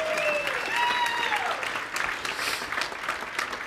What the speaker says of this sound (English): give them all another round of applause